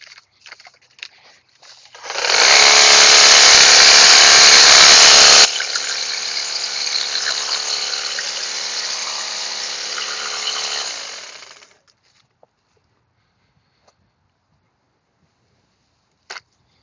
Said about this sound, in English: you've got an option for other units like this hedge trimmer that we have here